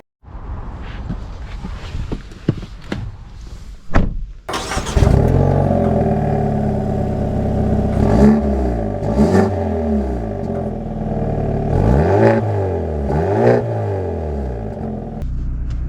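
A 2025 Hyundai Elantra N pulls hard under acceleration, its engine note climbing loudly through several rising sweeps with brief dips at gear changes, heard close up and alone without talk.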